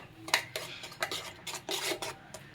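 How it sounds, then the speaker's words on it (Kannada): A spoon scrapes and stirs a chickpea flour mixture in a pot, giving several short rasping strokes in an uneven rhythm, close and fairly quiet. "ಇದನ್ನು ಚೆನ್ನಾಗಿ ಮಿಕ್ಸ್ ಮಾಡ್ಕೊಳ್ಳಿ."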